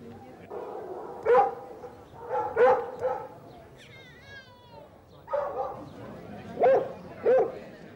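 A pack of lightly built Galway hunt hounds gives several bursts of baying barks in the open country, with brief pauses between the outbursts.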